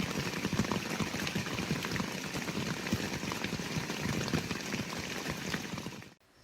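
Steady rain patters on a camping tarp at dawn, a dense, even crackle of drops close overhead that runs continuously before cutting off abruptly at the end.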